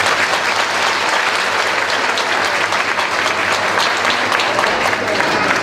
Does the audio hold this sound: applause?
yes